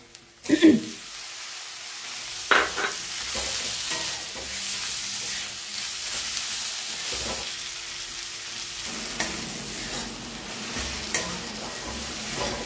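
Chopped tomato drops into a frying masala of oil and spices for chicken biryani, a loud splash-hiss at first, then a continuous close sizzle with repeated spatula scrapes and stirring knocks.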